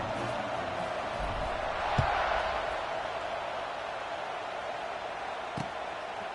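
A stadium crowd in the NCAA 26 college football video game keeps up a steady, fairly faint roar before a kickoff, with a couple of soft thuds, under the game's broadcast-style sound.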